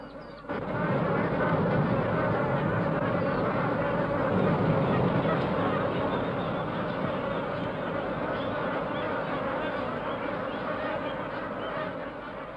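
Geese honk in a swamp, a dense, continuous chorus of overlapping calls from a large flock, loud and sustained from start to finish.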